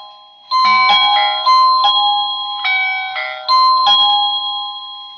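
An Eken smart doorbell's paired chime bell rings a multi-note electronic melody, loud and close, with clear bright tones stepping up and down and ringing on for about five seconds.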